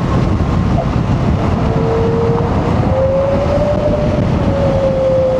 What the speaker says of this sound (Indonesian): Dan untuk bunyi mesin tetap enak,